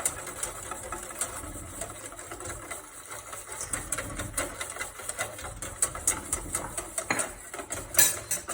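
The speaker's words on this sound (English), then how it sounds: "I'll whisk this in." A whisk beats milk into pastry cream in a bowl, giving rapid, steady metallic clicking and scraping strokes that continue throughout at moderate loudness.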